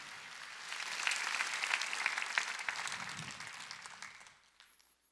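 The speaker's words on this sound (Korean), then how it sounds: "박수치라." A large congregation at a church service in an arena hall claps in a dense burst that swells, holds, and then fades away.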